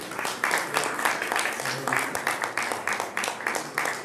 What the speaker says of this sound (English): Please give a big applause to